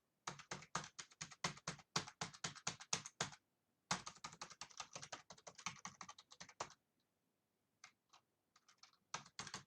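Typing on a computer keyboard, close and crisp, with quick runs of clicking keystrokes broken by short pauses and then sparser taps toward the end, with no talking.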